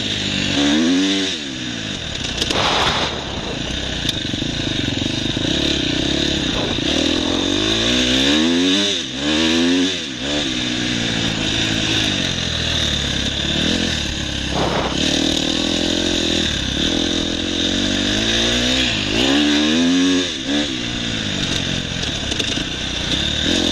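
A KTM 250 XCF dirt bike engine revs repeatedly through a sand wash, rising and falling in pitch as the throttle opens and closes, loud and close throughout.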